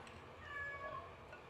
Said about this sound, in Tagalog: Umiiyak na naman yung mga pusa natin kasi naamoy na naman nila yung ulam ko.